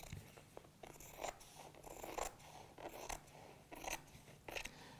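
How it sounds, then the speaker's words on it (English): Fabric scissors cutting PVC lampshade material for a hexagon lampshade, a quiet, close series of crisp snipping crunches in an irregular rhythm with short pauses. "So I'm just going to use the fabric scissors."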